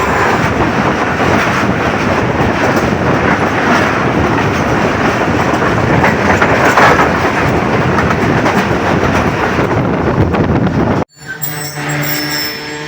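A passenger train, 48Dn Rehman Baba, runs through fog toward Mirpur Mathelo station, giving a loud, steady rolling rumble with clickety-clack wheel beats that cuts off sharply near the end, followed by a quieter rumble.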